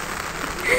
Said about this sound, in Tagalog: Umuulan guys.